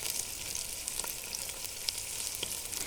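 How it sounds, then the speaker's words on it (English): Onion sautéing in a pan outdoors, a soft continuous sizzle and crackle with a few faint pops, steady and fairly quiet. "So I'm just going to wait for this onion to saute a bit."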